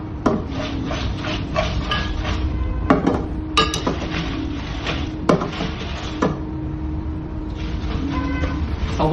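Folded paper lucky-draw chits tumble and rattle as they are spun in a container at a women's prize event, a steady rustling churn with sharp clattering knocks, close and fairly loud, with no talking.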